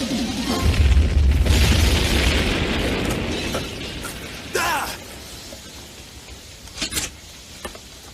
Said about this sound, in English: The equalizer's tanks are gonna blow!